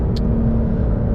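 A 2023 Porsche 911 GTS accelerates hard from a launch, its engine producing a loud, close, steady roar through the short burst.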